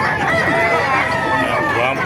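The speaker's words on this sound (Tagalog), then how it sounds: "Marami manok kayo dito sa Kalupit. Dumagsa ang manok." Roosters crow and chickens cluck at a busy poultry market in Calumpit, Bulacan, with several overlapping crows over a dense babble of voices and crowd noise.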